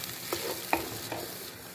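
Coconut paste being stirred into a fish curry in a pan, heard as a soft, low simmering bubble with a few light scrapes of the spoon, quiet and brief.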